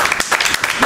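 Studio audience applause on a television show: a short, dense burst of clapping, fairly loud and close, with no talk over it.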